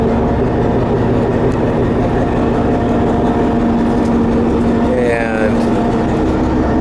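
A big Caterpillar diesel idling aboard a 68-foot commercial fishing boat, a loud steady low rumble that runs unbroken, close by, with a voice briefly heard over it.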